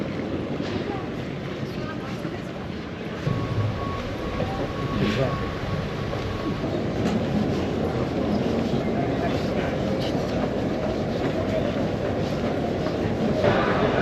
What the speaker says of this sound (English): So we're here in the train station at Copenhagen Airport